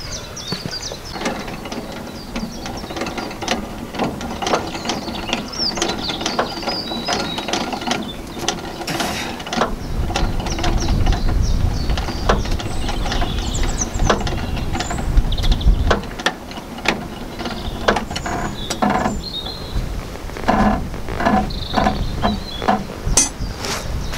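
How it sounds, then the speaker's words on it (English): A car jack clicks as it is ratcheted up under a vehicle's axle during a tyre change, a close, loud run of rapid mechanical clicks with metallic clinks and a heavier grinding stretch midway. "on a modern vehicle it's pretty obvious where you should jack it and where you shouldn't"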